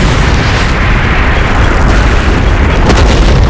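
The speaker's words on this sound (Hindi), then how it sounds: "इसके विस्फोट से पूरी वानर सेना छिन्न भिन्न हो गई है।" A demon-crafted fire weapon explodes in a mythological Ramayana drama battle, giving a sustained, loud, rumbling blast with heavy low-end roar and crackling debris that fills the scene without pause.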